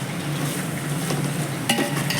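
Mutton frying in oil for mutton biryani, a dense steady sizzle with stirring scrapes and a sharp utensil knock near the end.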